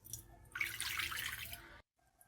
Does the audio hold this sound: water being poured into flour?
yes